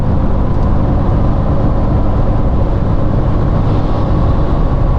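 A Nissan Frontier pickup engine pulls under full throttle, a loud, steady, dense roar with road noise that holds constant throughout, no voices present.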